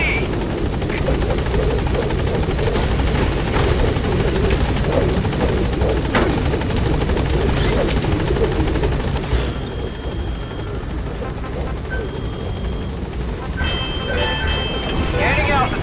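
The Pequod helicopter from the video game Metal Gear Solid V thunders with loud, dense rotor noise that continues as it gains altitude and thins out after about ten seconds.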